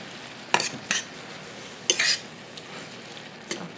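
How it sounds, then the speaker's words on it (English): Green beans being stirred in a pan with a sticky brown sugar glaze: a few sharp utensil scrapes stand out over a faint, steady sizzle, with quiet gaps between strokes. "All we have to do is just stir this up"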